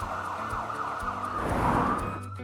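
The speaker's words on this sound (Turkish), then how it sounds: "Bu bir ambulans." An ambulance siren wails continuously at moderate volume, a sustained tonal warning over faint traffic rumble, heard alone without any talk.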